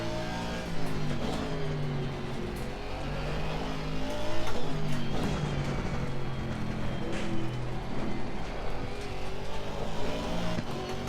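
Race car engine in Assetto Corsa Competizione, revving loudly and continuously with rising and falling pitch through gear changes and braking, close and steady with no talk.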